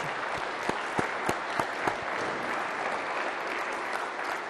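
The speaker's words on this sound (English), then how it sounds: "Let's give a round of applause again to Sergeant First Class Chris Strange." An audience at a formal event for the Commission on Unalienable Rights claps steadily after the national anthem. The dense applause is sprinkled with a few sharp, distinct claps and holds at a moderate level throughout.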